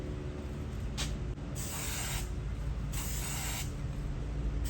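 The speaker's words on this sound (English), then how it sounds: "gentle spray. You don't want to overspray, get too much coming out of the can." A spray paint can hisses in two light bursts about a second apart, each lasting under a second, with steady background noise in between.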